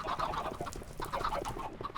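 Chickens in the Minecraft video game clucking in quick repeated bursts, several short calls close together, fairly quiet and with no talk.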